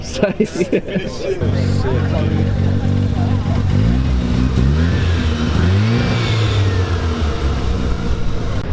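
Toyota Supra with a 2JZ engine revving at a busy car meet, a deep steady engine drone rising and falling in pitch with throttle blips, loud and close, with crowd chatter mixed in.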